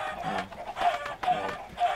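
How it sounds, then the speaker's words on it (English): Minecraft chickens clucking in a video game, a few short repeated clucks and squawks at close range over a steady game background, with no talk. "So there's chickens being cooked, and they almost all survive."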